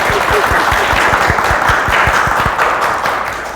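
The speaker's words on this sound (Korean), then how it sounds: "박수 한번 부탁드릴까요?" Applause from a conference audience at a talk, loud and sustained, with one pair of hands clapping in a clear steady rhythm close by over the wider crowd, tapering slightly at the end.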